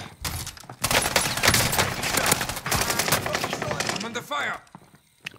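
Rapid gunfire rattles in a video game, dense bursts of shots nearly continuous for several seconds before fading, with a voice briefly over the action.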